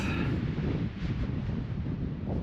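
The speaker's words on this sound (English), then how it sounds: "And wow, it's so windy. It's nuts." Strong, steady wind roars and buffets the microphone on a mountain summit in Norway, with constant low rumbling gusts, loud throughout with no other sounds.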